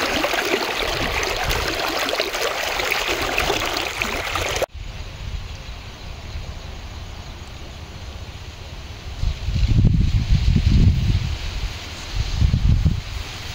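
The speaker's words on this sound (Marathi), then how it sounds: "हे गोदावरी नदीचं पाणी आहे" The Godavari river runs high after heavy water, a steady broadband rush of flowing water near the microphone, with a louder wind-buffeted stretch at the start and low gusty rumbles later.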